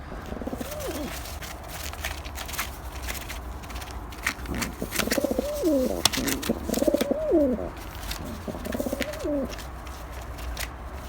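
Male pigeons cooing in repeated throaty bursts, several rolling calls close by over a steady low background hum with occasional clicks and scuffles.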